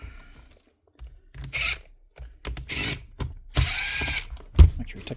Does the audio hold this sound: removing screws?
yes